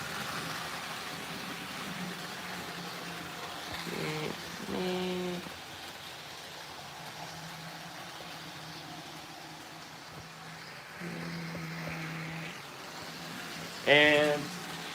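An electric model train runs steadily in a room, its motor giving a continuous low hum with tiny rhythmic rattles, and twice it swells into louder, buzzing, tonal whines before easing off.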